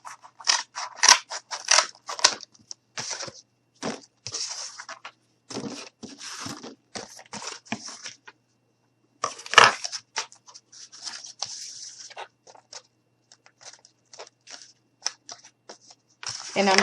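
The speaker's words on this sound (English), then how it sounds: "I'm just going to cut it in half." A piece of cardboard is cut in half, with a series of short crisp snipping and crunching cuts close by, interleaved with a person talking.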